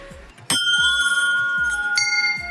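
Metal temple bells are struck twice, close and loud, each strike leaving a long bright ringing tone over a faint low rhythmic thumping.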